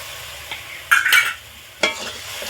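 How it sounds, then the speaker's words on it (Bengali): Spice masala being sautéed and stirred in a pan while cooking egg biryani: a steady low sizzle with two louder bursts of stirring and scraping, close up, no talk. "মশলাটা কয়েক সেকেন্ড এইভাবে কষিয়ে নিচ্ছি"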